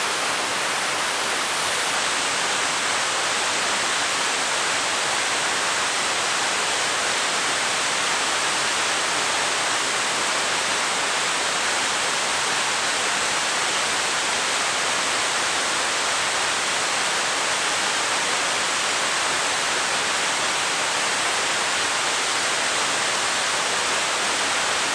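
A wild river's rushing current roars in a dense, steady wash with no letup, very loud and close as if heard right at the water's surface, in the rain.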